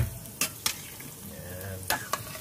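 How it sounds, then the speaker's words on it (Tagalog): A spoon clanks against a pot of simmering shrimp sinigang soup, close and irregular, with a few sharp scraping knocks over a soft bubbling simmer. "Haluin lang natin kunting-kunti lang."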